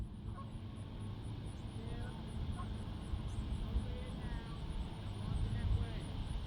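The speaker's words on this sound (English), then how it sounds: "The geese are coming." Canada geese honk faintly and intermittently as a flock flies over a lake, the calls scattered through a low, steady rumble of background noise.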